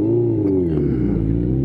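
A Yamaha Fazer 600 motorcycle engine revs loudly and close, its tone rising and then settling in one short, continuous burst, with no voices.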